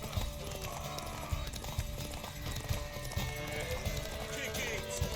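Rhythmic clip-clop of galloping horse hooves in The Witcher 3 over a busy game soundscape, with a faint horse whinny mixed in.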